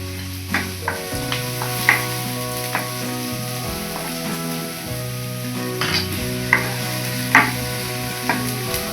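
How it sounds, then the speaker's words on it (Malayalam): Ginger, green chilli, onion and curry leaves sauté in hot oil, a steady close sizzle with scattered stirring scrapes and clicks over a low background hum, no talking. "ഒരു അരമുറി സവാളയും കറിവേപ്പിലയും കൂടി ചേർത്തതിന് ശേഷം നമുക്ക് ഒന്ന് വഴറ്റി കൊടുക്കാം"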